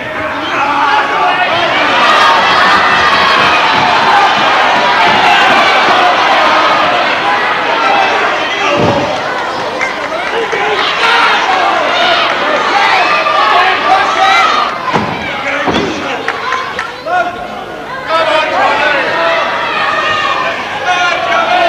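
A 1974 British wrestling crowd at a match roars and chatters continuously, a loud, dense hall ambience with occasional thuds from the ring under a commentator's voice.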